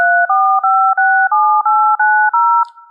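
A rapid sequence of DTMF telephone dialing tones encodes numbers: about eight clean dual-pitch beeps, evenly spaced with brief gaps, loud and isolated against silence.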